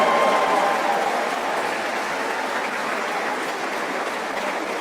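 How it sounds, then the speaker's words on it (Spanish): A crowd at a live religious debate gives sustained applause, a dense, even wash of clapping that fills the room and slowly fades slightly over a few seconds. "Un aplauso para Colombia"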